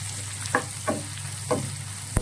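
Ginger and chopped shallots sauté in a pan for a Kerala okra fish curry, a low steady sizzle under a constant hum, punctuated by four or five soft stirring scrapes and a final knock.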